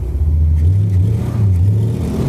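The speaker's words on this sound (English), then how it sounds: "spinning tires" A 1975 Corvette Stingray spins its tires, a loud continuous engine roar with rising and falling revs, no talking over it.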